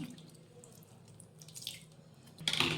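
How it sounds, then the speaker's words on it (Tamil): Dissolved tamarind water is poured into an anchovy fish curry, a short splash and trickle of liquid close by that builds to a louder pour at the end, with no voices. "இப்போ புளியை கரைச்சதை இதை நம்ம இதில் ஊற்றிடலாம்"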